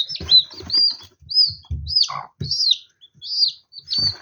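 Chicken chicks one to two days old chirping, with repeated high, thin peeps in short bursts, close by, mixed with light handling noises and soft rustling.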